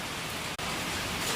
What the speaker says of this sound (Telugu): చల్లని వర్షం పడుతుంది కదా